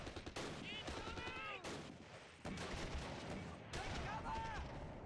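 Bursts of machine-gun fire from a soldier blind firing in the Close Combat World War II tactics game, at Pegasus Bridge, with dense rattling shots and explosions running continuously through the scene amid battle noise.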